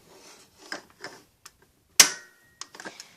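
A single sharp pop from a small knockoff Nerf blaster, sounding weak, followed by a brief springy twang, amid faint clicks and handling noise close by.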